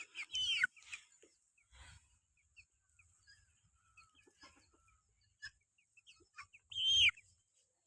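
Domestic hen at a rural home clucking in short, scattered bursts, with a louder squawking call near the start and another near the end, otherwise quiet with faint background sounds.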